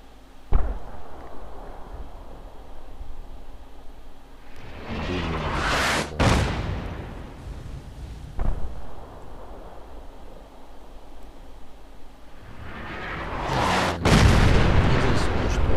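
Artillery strike in Fallout 4, called in by a thrown smoke grenade: a series of heavy booming blasts, each a loud sharp impact with a rumbling tail, spaced several seconds apart, with the last ones swelling into a sustained roar.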